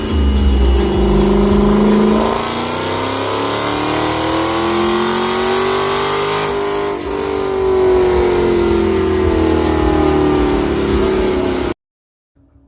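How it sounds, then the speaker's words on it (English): A Dodge Hellcat's engine roars loudly on a dyno, its pitch climbing and falling through long sustained revs with a brief dip in the middle, close and overwhelming before cutting off abruptly near the end. "This car is just honestly too loud. You can't even hear yourself talk over this car."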